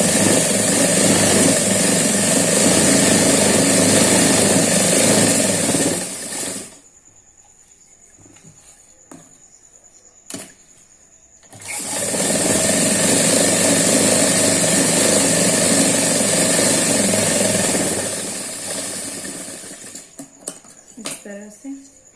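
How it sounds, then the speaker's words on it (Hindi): A sewing machine stitching a kurti jacket runs in two long, loud, steady whirring stretches, separated by a quiet pause with a few small handling clicks, then stops again near the end. "उसी तरह हम ये वाला पार्ट पे भी सिलाई चला लेंगे।"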